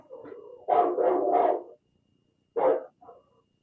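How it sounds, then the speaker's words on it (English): Dogs bark in a short burst of several quick, fairly loud barks, followed by a pause and one more bark with a softer yip, heard during an online virtual meeting with no talk over them. "Your dogs are attacking somebody."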